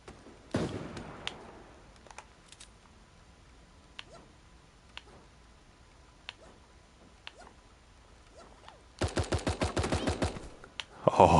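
Rapid burst of gunfire in the cartoon battle royale game Super Animal Royale, a dense volley of sharp cracks near the end after scattered quieter clicks and taps, plus one early loud shot.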